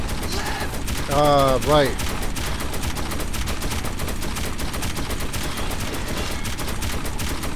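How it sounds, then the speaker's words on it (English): Sustained automatic gunfire from the video game Metro 2033 Redux rattles loudly and steadily through the whole stretch, with a brief voice speaking over it near the start. "Oh, these bullets are tearing them apart."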